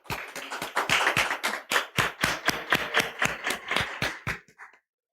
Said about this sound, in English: A round of applause for Sofia